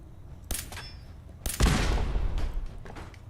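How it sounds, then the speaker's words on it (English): An explosion blowing up a container in the Fallout 4 video game, a sharp crack and then a heavy boom with a rumbling, crackling tail that fades slowly, loud and without speech. "I just blew up a container in that room."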